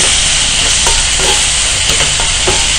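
Loud continuous sizzle of a butter chicken gravy frying with chilli paste, garam masala and lemon juice, with light stirring clicks close by and no talking.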